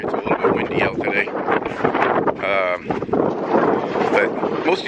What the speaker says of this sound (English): Sorry, it's a little bit windy out today.